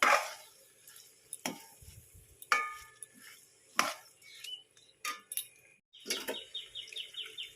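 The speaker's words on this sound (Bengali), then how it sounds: "সাবুটা দিয়ে ভালো করে নাড়িয়ে চালিয়ে নেব" A spoon stirs sago khichuri in a cooking pot, producing a series of irregular scraping knocks and clinks with quiet gaps between them, close and fairly soft, without speech.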